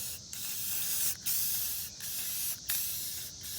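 A first coat of spray paint goes onto a C3 Corvette interior trim panel being repaired for cracks: five or so close, steady hissing bursts from the spray can, broken by brief pauses.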